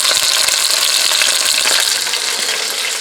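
Pot roast browning in a Le Creuset cast iron Dutch oven on the stovetop, a loud, dense and continuous sizzle with no break.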